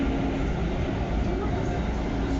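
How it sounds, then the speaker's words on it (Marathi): A Pune metro train rolling down a ramp into its underground tunnel near the Range Hill depot gives a steady, close, low rumble with a constant wash of wheel and motor noise, unbroken for the whole stretch. "मेट्रो आता हळूहळू अंडरग्राऊंडमध्ये जात आहे"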